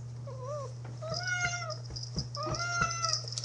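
A cat meows several times in quick succession, high and plaintive, over a steady low electrical hum.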